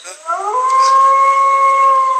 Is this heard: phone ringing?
no